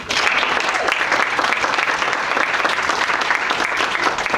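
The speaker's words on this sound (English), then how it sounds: "Students, give yourselves a round of applause." Students at an MLK showcase event give themselves a loud, sustained round of applause, thick continuous clapping from a full room.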